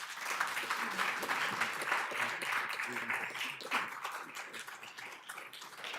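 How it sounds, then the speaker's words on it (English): An audience at a city council meeting gives a round of applause for the fire chief's crew, a steady wash of clapping from a modest crowd, fairly soft and continuous, with a few voices underneath. "I'd like for everybody to give these guys a round of applause"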